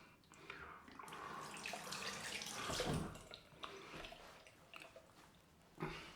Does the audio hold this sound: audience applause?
no